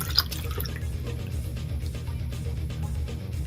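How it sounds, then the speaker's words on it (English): Leftover water is poured from a miniature painter's wet palette into a water jar, giving a soft continuous trickle and splash with a few drips, close and moderately quiet. "I'm going to take the remainder of this water and I'm going to dump it right here into my water jar"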